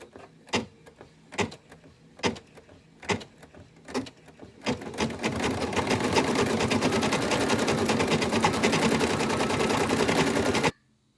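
Embroidery machine stitching the icing on the cookie part of a Christmas banner letter: several sharp separate clacks, then a continuous rapid clattering stitch run that stops abruptly.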